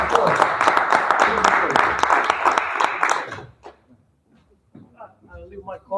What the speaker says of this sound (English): So give him a hand of applause.